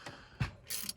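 A ratchet tightening a 10mm bolt on the water pump of a 1999-2006 GMC Yukon 5.3L V8, a few quiet mechanical clicks and a soft clunk within a second.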